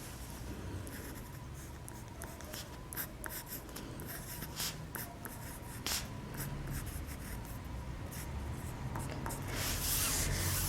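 A pen scratches continuously across paper in a primary-school classroom, dense rustling strokes with small bumps, close and fairly quiet, with no voices.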